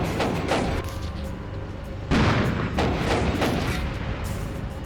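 A Bradley fighting vehicle's 25mm cannon fires in a real-time strategy war game. Several heavy booming shots land at uneven intervals, each one leaving a rumbling tail behind it.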